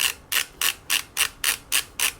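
A tool loosening a bicycle bottom bracket gives eight sharp, evenly spaced ratcheting clicks, about four a second, close and clear with no talk.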